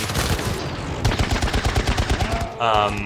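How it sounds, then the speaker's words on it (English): Gunfire and a weapon blowing apart in the 2012 shooter Syndicate, a loud run of rapid shots and bursts packed close together, ending in a brief electronic tone. "The backfire makes their weapon explode."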